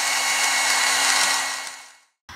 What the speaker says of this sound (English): Then I use the heat blower gun to heat the film so it can wrap the cup tightly.